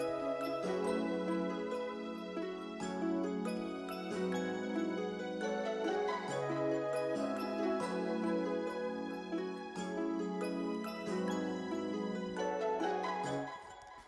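A pluggnb beat melody layers soft, chiming synth notes over sustained string swells, playing a steady looping chord progression at moderate volume with no drums or talking.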